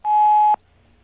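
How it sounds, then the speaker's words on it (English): A single loud, steady electronic tone from a home answering machine, lasting about half a second before cutting off to near silence. "That's a beep."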